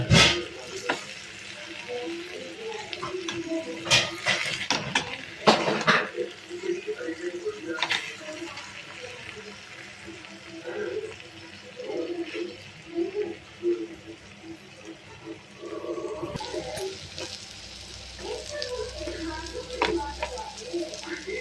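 Food fries quietly in a pan: a soft, uneven sizzle broken by sharp utensil clinks, with some voices in the background.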